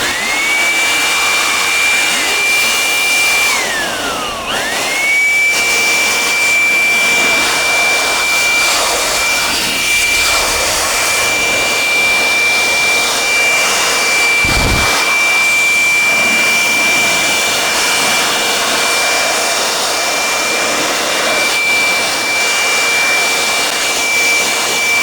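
A brand-new electric air blower blows dust out of a decade-old desktop PC, a loud, steady, high-pitched whine and rushing hiss close by that holds for the whole time, with brief pitch dips where the airflow changes.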